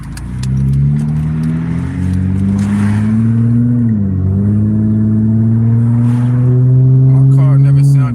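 Loud, droning engine of a car running low on oil after an incomplete Valvoline oil change, with steady tonal hum and slight pitch shifts, close and continuous.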